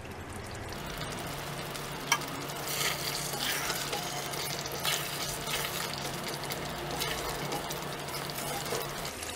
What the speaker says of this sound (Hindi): 4 से 5 मिनट तक पका लेते हैं ताकि जो इसके मसाले हैं वो पनीर के अंदर अच्छे से जज्ब हो जाएं